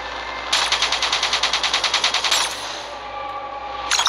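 A minigun in Call of Duty Black Ops 3 lets off a rapid, evenly pulsed burst of fire lasting about two seconds, loud and close, then a brief second burst starts at the end.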